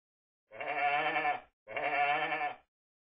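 Two wavering sheep bleats, each around a second long, separated by a brief pause, fairly quiet and heard alone.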